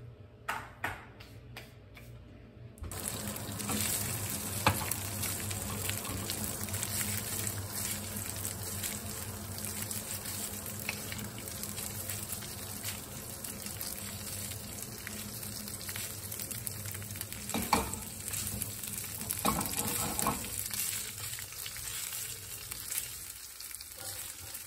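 Meatballs for camo spaghetti fry in an indoor kitchen pan, a long, fairly quiet sizzle that starts after a brief near-silent opening, with occasional clinks and faint crackles throughout.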